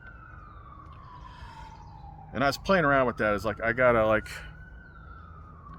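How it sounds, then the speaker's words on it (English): Emergency vehicle sirens outside give a steady, gradually falling wail that continues through the clip, while a person talks over it in the foreground. "Oh, come on with the sirens."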